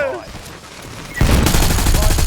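Call of Duty Warzone gunfire bursts into a loud, dense volley of rapid shots partway through, after a quieter stretch with voices.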